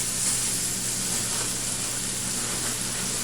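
Cubed steak browning in the base of a slow cooker, a steady, close, even sizzle and frying hiss that holds without pause, with no talking over it.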